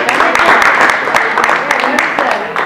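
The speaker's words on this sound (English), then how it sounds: "Let's give her a round of applause" A live audience claps for Katie at a low-carb group meeting, a loud, dense patter of hands filling the space throughout with voices mixed in.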